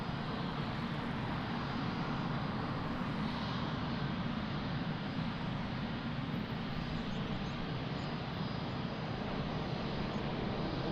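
Airliner on final approach to runway 02 at Lisbon Airport, a steady broadband jet roar that holds loud and constant throughout with no talk.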